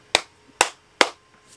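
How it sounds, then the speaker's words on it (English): Three sharp, quick hand claps close by, evenly spaced in a short burst of excitement, with a faint softer tap trailing after. "Do I clap like a child when I get excited?"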